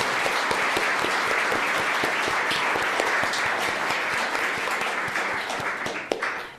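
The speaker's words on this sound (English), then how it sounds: "I just wanted to give William a round of applause" Sustained applause from an audience at a book event, dense steady clapping that fills the room from start to finish at an even, loud level.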